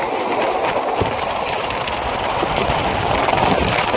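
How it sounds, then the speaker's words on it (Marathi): A passenger train rolls along on a long journey from Nandurbar to Chandigarh, its steady rumble mixed with rhythmic wheel clatter and creaks, loud and close throughout with no talking. "आता ही रेल्वे चालली"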